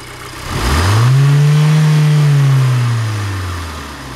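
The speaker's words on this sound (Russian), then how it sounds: "Работа на повышенных оборотах стабильно." A 2006 Audi A4 2.0 petrol engine is revved from idle, the tone climbing smoothly, holding at raised revs, then falling back. It is loud and close, with no talking.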